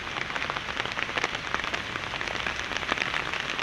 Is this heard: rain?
yes